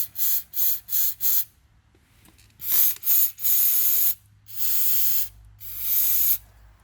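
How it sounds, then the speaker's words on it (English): Aerosol cleaner sprayed into a hole while replacing a BMW 3 Series starter motor: four short close bursts of hissing spray, a pause, then two more short bursts and two longer sustained sprays, loud and alone. "Spray that down, spray in the hole"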